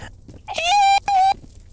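A voice imitates a rape whistle in the game Viscera Cleanup Detail: Shadow Warrior, two shrill, sustained tones, the first longer, the second shorter after a brief break.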